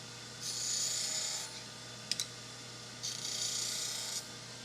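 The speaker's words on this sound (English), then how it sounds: "Let's resharpen this gouge." A woodworking gouge being resharpened in a wood shop, heard as two distinct bursts of raspy, scraping strokes with a brief clicking pair between them, close and fairly loud against a low steady hum.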